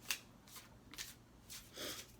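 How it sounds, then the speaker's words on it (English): Tarot cards being shuffled by hand, four or five soft papery riffles spaced about half a second apart, quiet and close with no talking. "Oh, I'm getting better at shuffling, it seems."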